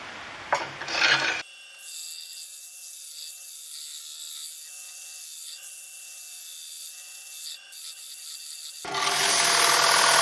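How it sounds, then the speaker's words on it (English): Abrasive sanding on a wooden bowl spinning on a woodturning lathe, a steady raspy rubbing that holds evenly for several seconds between louder bursts of motor and handling noise at the start and end, with no talking. "So now we need to do quite a bit of sanding."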